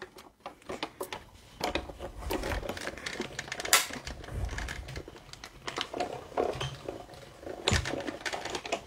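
A manual die-cutting machine cranks coloured vellum card through for a Stampin' Up card, producing a dense series of clicks, clacks and rattling mechanical noises at close range.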